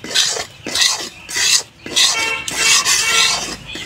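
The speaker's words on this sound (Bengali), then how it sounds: "কম ভেজে কিন্তু সুজিগুলোকে ভাজতে হবে" Semolina being lightly dry-fried, a spoon scraping and rasping across a pan in several loud, rhythmic sweeping strokes with brief gaps between them, very close.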